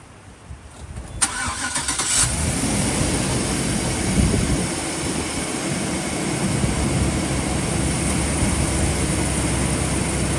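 A 4.8-liter V8 in a Chevy Express van cranks and fires up after a moment of quiet, then settles into a loud, steady idle that runs on without pause, close by and with no talk.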